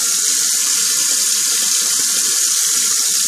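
Tap water runs steadily into a sink while a man rinses his face after shaving, a continuous close hiss with no talk over it.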